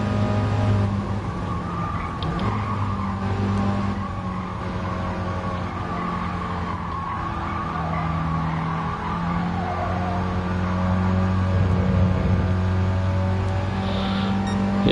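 A race car's engine in Gran Turismo Sport drones loudly and steadily, its revs held high below the red line with sustained harmonic tones shifting pitch as the car accelerates and the revs rise and fall, continuous throughout without pause.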